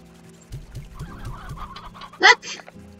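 Chickens, among them an elder rooster, cluck in the Slime Rancher video game: a quick rhythmic series of low clucks is followed by a louder, sharper squawk near the end, with no talking.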